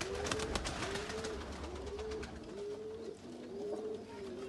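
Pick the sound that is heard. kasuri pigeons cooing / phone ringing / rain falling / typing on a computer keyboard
kasuri pigeons cooing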